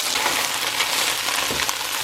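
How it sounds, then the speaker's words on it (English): Steady crackling sizzle of tofu frying in hot oil, close and continuous, with no voices. "I'm gonna start with frying up the tofu"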